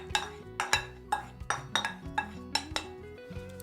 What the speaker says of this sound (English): We're just gonna scrape that into a jug.